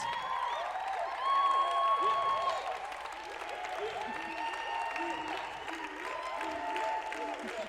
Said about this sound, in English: can we all stand and just applaud Judith as she comes and speaks to us?